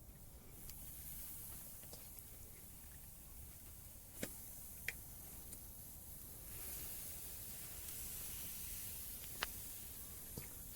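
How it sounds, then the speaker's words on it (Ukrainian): Quiet, continuous hiss of boneless chicken thighs frying in a pan, with occasional soft pops and ticks scattered through the sizzle. "Кладемо наші стегенця без кістки, смажиться"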